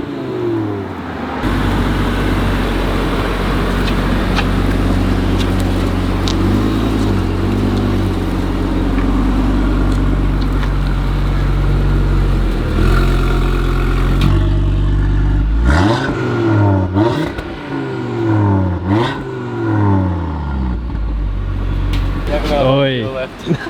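Audi RS3 fitted with a custom downpipe and midpipe exhaust, heard from inside the car: a steady loud engine drone, then repeated rising and falling revs near the end, with voices talking over it.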